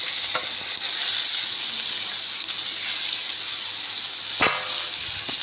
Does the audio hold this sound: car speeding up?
no